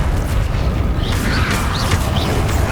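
A roaring burst of fire from the Incendio spell in Hogwarts Legacy, a loud, continuous whooshing blaze with crackling bursts and a booming low end throughout.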